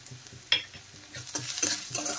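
Onion masala with black pepper powder is being stirred and fried in a pan, giving soft spoon scrapes in an uneven rhythm over a quiet sizzle, heard up close without talk.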